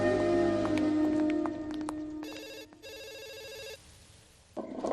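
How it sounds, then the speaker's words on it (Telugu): A telephone rings in repeated electronic bursts with short gaps between them, clear and fairly close, alongside background tones in an indoor comedy scene. "చిత్ర, ఫోన్ ఎవరితో చూడు."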